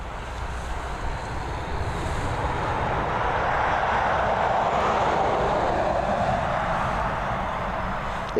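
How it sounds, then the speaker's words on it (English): An Aer Lingus jet, flight EIN40R bound for Rome, takes off from runway 10R at Dublin Airport, its engines a loud, steady broadband roar that swells and holds for several seconds. "EIN40R departing us along runway 10R here at Dublin International and beginning that journey over to Rome."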